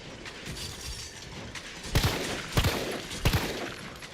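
Three sharp gunshots ring out from a firearm in Resident Evil 3, spaced evenly about a second apart over a low ambient game background, each one loud and punchy.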